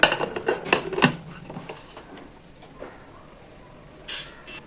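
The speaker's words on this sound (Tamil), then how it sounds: "நம்ம இப்போ மூடிட்டு வெயிட் போட்டுடலாம்" Metal clatter of a pressure cooker lid being set and closed over pongal, several sharp clanks in the first second, then quiet, with a final small metallic clink as the weight goes on.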